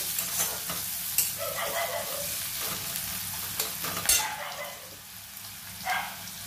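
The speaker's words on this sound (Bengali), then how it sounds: "পেঁয়াজটাকে আমি একটু লাল করে ভাজবো" Onions frying in a little oil in a kadai, with a soft continuous sizzle under sharp scraping strokes of a spatula stirring the pan, close up and without talk.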